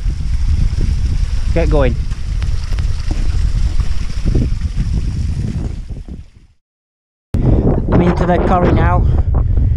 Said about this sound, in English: Wind's picking up again, but it's cleared.